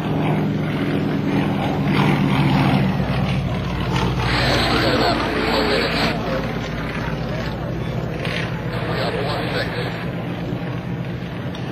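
A Nanchang CJ-6 trainer with a Russian radial engine flies aerobatics at an airshow, giving a steady, loud propeller and engine drone that swells slightly and holds throughout under a commentator's voice.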